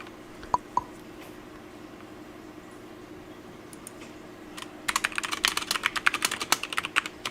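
Keys on a computer keyboard clack during a gaming session, a couple of isolated taps early, then a quiet pause, then a fast, close run of crisp keystrokes in the final seconds.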